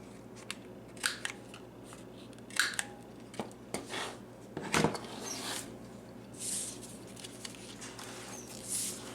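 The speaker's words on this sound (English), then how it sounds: "You can round the corners with the scissors also." Scissors snip around paper corners in a crafting setup, giving scattered short crisp cuts and small paper rustles with quiet pauses between, fairly close and soft, with no talking.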